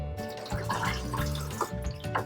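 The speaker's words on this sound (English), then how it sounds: "To flush the toilet, just press this" Water gushes and gurgles steadily as a camper toilet in a Sun Living A75DP motorhome is flushed, a close, continuous rushing flow with small splashing pulses throughout.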